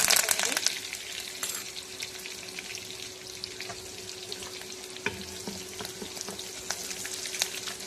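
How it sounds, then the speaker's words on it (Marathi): Chilies, mustard seeds, cumin and curry leaves fry in hot oil for a savory curd and poha breakfast, giving a busy crackling sizzle with sharp pops scattered throughout, close and steady. "बघा आपली मिरची पण तळून झाली, जिरी मोहरी पण तळतळून झाली."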